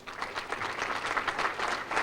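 Steady applause from an audience at a hall of fame induction ceremony, a dense, even patter of clapping hands with faint crowd noise, filling the whole short stretch without speech.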